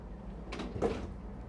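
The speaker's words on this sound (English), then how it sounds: "you've got a big freezer compartment that has a sliding drawer" A large sliding freezer drawer in a 2022 American Coach American Eagle 45K motorhome closes with a soft, brief muffled thud and slide, heard once nearby in a quiet interior.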